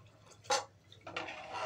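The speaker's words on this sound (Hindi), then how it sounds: "अब हम इसमें ऐड कर देंगे पानी" Water is poured from a jug into a pot of chana and black urad dal, starting with a brief splash and then settling into a steady, close pour that runs to the end.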